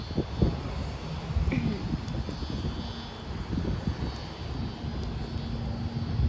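A jet airliner passing at Sydney airport is heard as a faint, steady engine roar and rumble, with people talking quietly over it.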